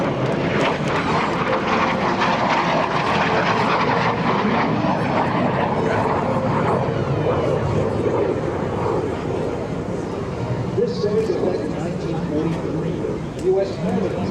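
Lockheed T-33 Shooting Star jet at an air show, a loud continuous engine roar and rush that stays at a steady level throughout under an announcer's voice.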